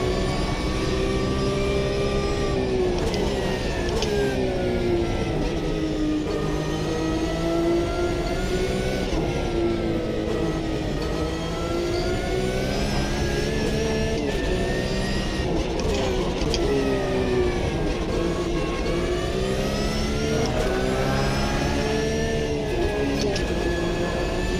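A Porsche engine in a racing simulator game drones loud and continuous, its pitch sweeping up and down through gear changes and revs as the car brakes and accelerates, with no talk over it.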